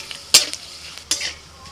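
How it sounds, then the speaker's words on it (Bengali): Bay leaf, dried red chilies and five-spice dropped into hot oil for tempering, two sharp crackling bursts with clinks of a utensil against the pan over a low steady sizzle. "ওই তেলের মধ্যে ফোড়নে দিচ্ছি তেজপাতা,"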